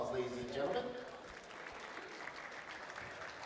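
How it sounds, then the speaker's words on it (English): Applause from the crowd at a WBC boxing event, a steady spread of clapping under a loud, echoing voice over the arena sound system throughout. "Let's give them all a big round of applause, ladies and gentlemen"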